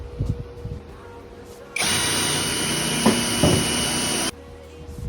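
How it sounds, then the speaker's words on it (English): A power drill bores a pilot hole for screws in a mobile home vent duct, a loud steady high whine lasting a couple of seconds, preceded and followed by quieter handling knocks. "I'm going to drill a pilot hole in there in order to put the screws in"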